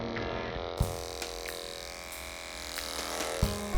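Electric hair clippers with a number 2 blade buzz in a steady close hum while cutting short hair, with two sharp knocks or clicks breaking the drone.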